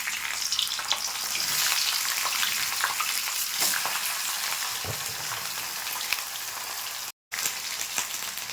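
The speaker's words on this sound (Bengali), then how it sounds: "বাঁধাকপিটা একটু ভেজে নেব।" Cabbage fries in mustard oil in a wok, a loud, close, steady sizzle with scraping stirs breaking through, then a momentary dropout before the crackle resumes.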